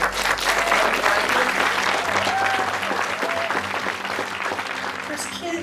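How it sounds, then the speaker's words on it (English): An audience applauds graduates at a foundation ceremony, with sustained, loud, even clapping throughout and some voices mixed in beneath it. "So can we get a round of applause for them?"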